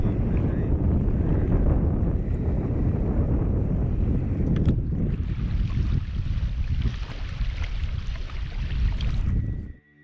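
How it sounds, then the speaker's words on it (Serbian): Strong wind blows beside a dark lagoon high in tropical mountains, battering the microphone with a loud, constant roar. The gusting eases a little about halfway through and then cuts off sharply at the very end. "Puše dosta, nisam ponio mikrofon"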